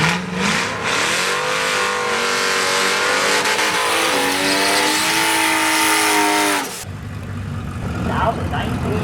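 A 1981 Ford Fairmont Wagon street car on its drag strip pass, a loud engine roar climbing in pitch through gear shifts for several seconds before cutting off abruptly to quieter background noise.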